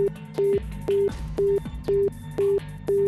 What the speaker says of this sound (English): Sounds like a dial tone.